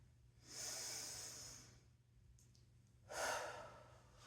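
Two deep, slow breaths during a relaxation exercise, a long airy inhale and then a strong exhale after a pause. They are close and soft and come alone, with no talking.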